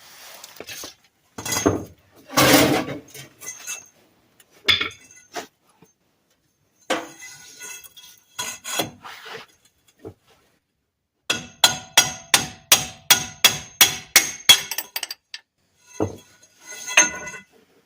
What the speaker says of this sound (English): That seal I'm going to hammer out also with the same pipe that I was using before.